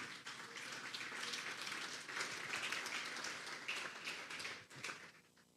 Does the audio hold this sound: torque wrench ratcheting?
no